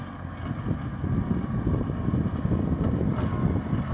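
A Kubota B2740s small tractor pulls a 5-tine ripper through soil, giving a steady low engine rumble that runs loud and continuous with some wind buffeting at the microphone.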